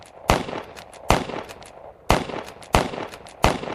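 Five loud, sharp gunshots at uneven intervals, each a sudden crack with a short echoing tail, no talking in between.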